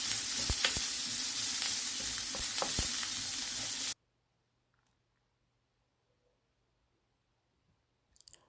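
Onions for a chicken curry fry in a pan, a loud close sizzle with sharp spatula clicks and scrapes for about four seconds, then near silence apart from a brief clatter at the end.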